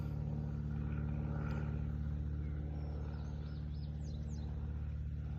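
A propeller airplane drones steadily overhead behind a rifle range, its low engine hum unbroken throughout, with a few faint bird chirps above it.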